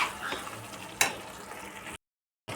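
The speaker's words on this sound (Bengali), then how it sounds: "আঁচ কমিয়েই কিন্তু আমি কষাচ্ছি, আঁচটা আমার একদমই কমানোই আছে" An eggplant dish with chili and turmeric sautéing on low heat, a faint soft sizzle with a couple of quiet stirring scrapes, close and alone, cut off by a brief dropout near the end.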